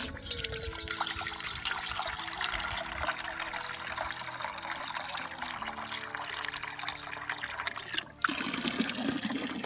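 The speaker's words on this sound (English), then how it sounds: "there's actually fresh running water quite a few places we've seen in Turkey" Steady rushing fresh water in the Turkish mountains runs continuously and close by, with a brief gurgling break near the end; no voices.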